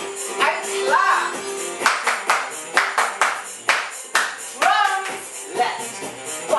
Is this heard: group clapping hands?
yes